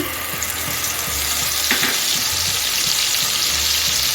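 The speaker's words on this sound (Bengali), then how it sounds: "এখন আমি বানিয়ে রাখা পেস্টটা দিয়ে দিচ্ছি" Spiced onion paste frying in a pan for masala paneer, a steady hiss and sizzle throughout with faint scraping of a spatula, close and continuous with no talk.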